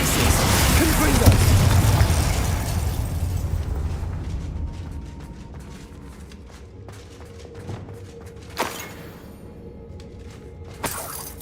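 A Confringo explosion spell goes off in the video game Witch Simulator 2023. A loud burst of rumble and crackle fades over several seconds, followed by a few sharper pops and thuds.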